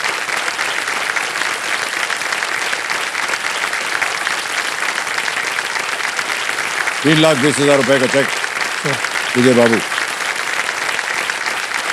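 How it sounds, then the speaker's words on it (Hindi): Studio audience applause on a Hindi TV quiz show, Kaun Banega Crorepati, a steady full-room clapping that runs throughout while a host talks over it. "तालियां बज जाए इनके लिए"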